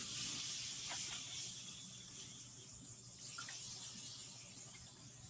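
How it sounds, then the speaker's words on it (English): A continuous close hiss of an olive oil spray can running for several seconds with faint clicks underneath. "if you spray them with a little bit of olive oil"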